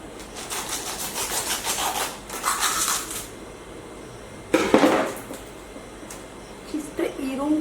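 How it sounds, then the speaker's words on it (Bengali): Cubed cheese rubbed over a grater onto a homemade pizza, giving bursts of rasping scrapes in quick strokes, several in a row, then a pause and a sharper scrape, with a voice talking between strokes. "এবারে এর উপরে আমি চিজ গ্রেট করে দেবো"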